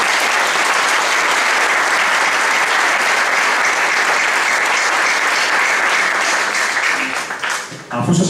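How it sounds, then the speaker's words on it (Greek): An audience at the opening of classes at a school of Byzantine and traditional music gives the children a long, dense round of applause, loud and sustained before it thins out at the end. "Ένα χειροκρότημα για τα παιδιά."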